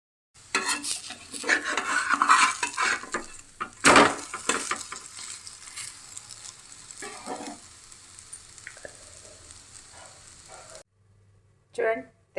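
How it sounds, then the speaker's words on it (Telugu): Telangana sarva pindi, a flat rice-flour bread, roasts on a stovetop in a covered pan, giving a steady close sizzle with occasional clinks of the pan and lid, and a voice speaks over part of it. "ఇప్పుడు దీన్ని మనం పొయ్యి మీద కాల్చుకుందాం. చక్కగా మూత పెట్టి కాల్చుకోండి."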